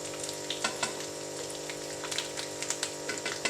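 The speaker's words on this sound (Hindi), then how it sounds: "अब हम इसको अच्छी तरह भून लेंगे।" Daal mash fries in a pan for a dhaba-style dish, giving a soft, steady sizzle with scattered small crackles and pops close by.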